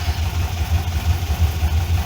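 A warmed-up VW Beetle air-cooled engine with dual Solex 32 PDSI carburetors idles at about 600 RPM, a steady low pulsing putter heard up close and loud, with no voices.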